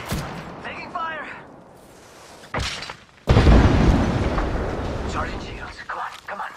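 Apex Legends gunfire and explosions, a loud heavy blast burst that rumbles on for several seconds after brief sharp cracks, with a voice talking over the action.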